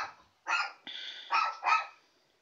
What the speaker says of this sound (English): Sorry about the barking in the background